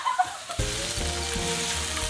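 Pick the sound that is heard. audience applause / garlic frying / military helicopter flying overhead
garlic frying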